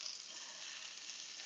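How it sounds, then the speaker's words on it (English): Broccoli with extra virgin olive oil sizzling in a pan, a steady, soft crackling hiss with no break. "Okay, you hear it sizzling."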